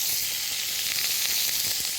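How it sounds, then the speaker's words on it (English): Grapefruit halves searing in a little oil in a hot pan give a steady, close, bright sizzle with faint crackles throughout, and no voices. "Listen to that sizzle."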